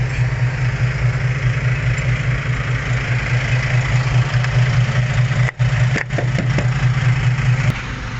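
An Isuzu Rocky truck engine idles steadily at the roadside, a loud, close, even diesel throb with a low droning hum, with a few brief clicks and a short dropout partway through, no talk.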